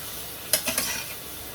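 Prawns tipped into a hot pan of oil, a quiet sizzle broken by a few sharp bursts of spitting as they land, then settling back to a low hiss.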